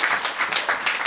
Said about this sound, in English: Can we give NSI a big round of applause